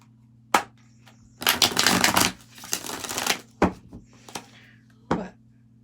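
Tarot cards being shuffled by hand, a sharp tap then a couple of seconds of riffling and shuffling, followed by a few soft knocks on a table.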